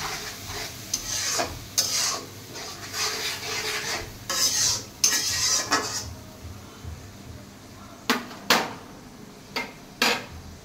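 Spices for a Chinese chicken curry are stirred and fried in a pan: a run of scraping, rubbing strokes with soft sizzling, then several sharp separate scrapes of a utensil against the pan near the end.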